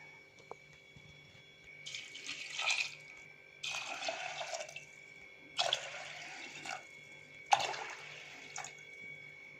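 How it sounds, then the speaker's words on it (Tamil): Water is poured in four separate splashing bursts onto Mappillai Samba rice in a pot, each lasting about a second, close and moderately loud, with steady background hum between pours. "இப்போ நான் தண்ணி ஆட் பண்ணிக்கிறேன்."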